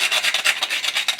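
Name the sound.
grating fresh cinnamon with a grater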